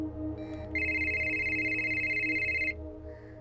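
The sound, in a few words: telephone ringing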